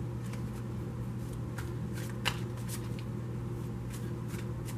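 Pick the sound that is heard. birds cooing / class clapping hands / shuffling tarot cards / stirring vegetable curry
shuffling tarot cards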